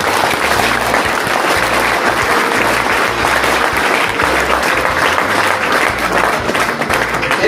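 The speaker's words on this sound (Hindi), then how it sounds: "तो मैं चाहता हूं कि इनके लिए एक बार जोरदार तालियां" Loud, sustained applause from a room full of students at a coaching class, honoring a student selected for the Rajasthan police, with thick continuous clapping and a few heavier claps standing out.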